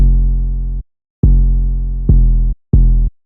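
Four deep, booming 808 bass notes hit one after another, each cut off sharply after a short decay, leaving brief silences between them.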